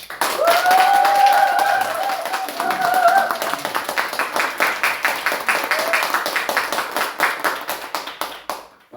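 Audience applause at a business presentation event welcoming a speaker to the stage, loud sustained clapping from a large crowd that gradually thins into scattered claps before fading out.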